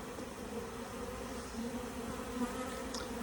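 A honeybee swarm fills the air around a hive box in a continuous, dense buzz that surrounds the listener, steady and moderately loud with occasional nearer passes.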